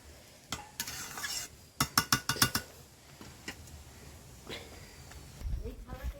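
Mango kasundi cooking in a pan, with a spoon knocking and scraping in a quick run of sharp clinks over a low bubbling simmer, close by as a voice talks.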